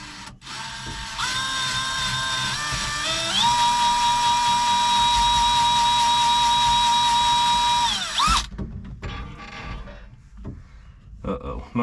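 Whining electric drill bores through a steel pedal on a Cat D3C dozer, with the motor's pitch stepping up and then holding steady for several seconds before it cuts off, followed by clunks and handling noise.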